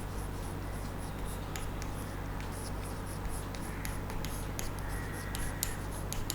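A pen scratching across paper during an accountancy sum, soft uneven strokes with small taps, close and quiet over a faint steady hum.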